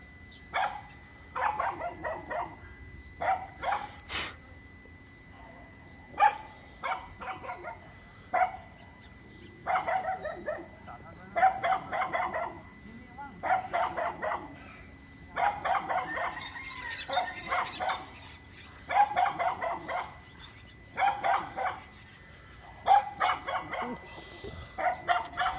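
A dog barks again and again in short clustered bursts at night in the Philippines, fairly close, over a quiet background with faint other animal sounds.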